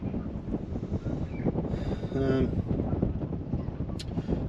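Strong outdoor wind buffets the microphone in a steady low roar and rumble while someone works on fitting a spool valve to a Fordson Power Major crane, the gusts swelling briefly midway.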